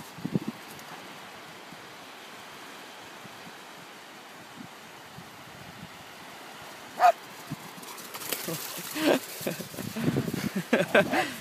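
Dogs bark in short bursts at the beach, a sharp one midway and several more clustered near the end, over wind noise and faint voices.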